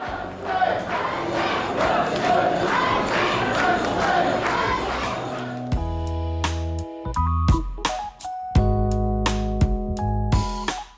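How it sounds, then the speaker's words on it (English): A dense crowd of people outside a temple in Tokyo fills the first half with a loud, steady murmur of many voices, which then gives way to louder, intermittent bursts of sound. "there were a lot of people, but we maneuvered through the crowd"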